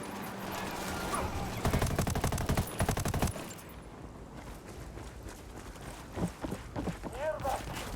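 Video game gunfire erupts in rapid automatic bursts, loud and sharp for a couple of seconds, then fades into quieter scattered shots and game sounds with voices talking.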